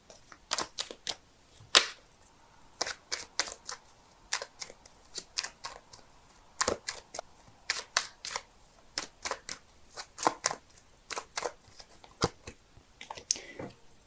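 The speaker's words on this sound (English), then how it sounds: "so give me a sec while I shuffle." Tarot cards being shuffled by hand, quick close bursts of riffling and snapping in irregular clusters separated by short pauses, crisp and near over a quiet background with no talking.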